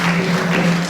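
A crowd at a ceremony honouring a former university Vice Chancellor claps steadily, a dense, even wash of applause that holds for the full second with no voices over it.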